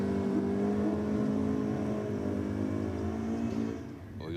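A supercharged V8 HD wagon race car revs at high RPM at a drag strip, a steady harmonic engine drone holding fairly constant before easing off near the end, with no talk over it.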